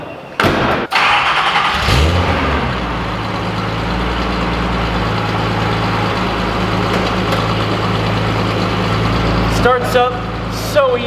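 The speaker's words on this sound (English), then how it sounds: "This is a cold start on a 1978 Datsun 280Z with an MSA performance exhaust." A 1978 Datsun 280Z engine with an MSA performance exhaust cranks and catches on a cold start, then settles into a steady, rumbling idle that continues loudly, with a voice briefly heard toward the end.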